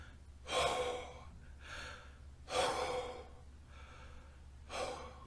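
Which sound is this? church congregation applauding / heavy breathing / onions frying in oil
heavy breathing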